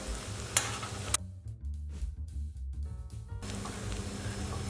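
Potato rosti frying in a pan with a soft continuous sizzle, interrupted by a couple of sharp clicks and brief moments of quieter crackling, close and fairly faint, with no talking.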